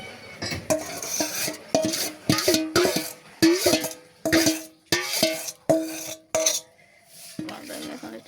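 Hilsa pulao cooking in a pot as boiled fish is added, repeated metal clanks and scraping strokes of a spoon against the pot in uneven bursts, close and fairly loud, with brief pauses between.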